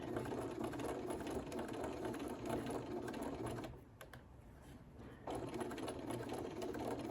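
A sewing machine stitches circles in a steady, continuous mechanical whir, pausing briefly about midway before the stitching resumes.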